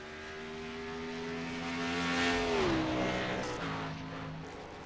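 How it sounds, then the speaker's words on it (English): Race car passing on the track at Watkins Glen during an Xfinity Series race, its engine tone swelling as it nears and dropping in pitch as it goes by, heard from a distance with a steady background hum. "I think we just had our last car cross the start finish"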